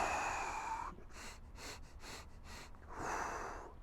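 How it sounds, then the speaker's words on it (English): Breath of fire breathing exercise: after a long forceful exhale, a quick run of sharp rhythmic nasal puffs follows, about five in a row, then another sustained hissing breath, close and clear. "another breathing exercise is a breath of fire"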